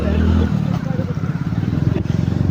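A motorcycle engine runs nearby, a steady throbbing idle with rhythmic pulsing and light clatter, fairly loud and continuous from start to finish.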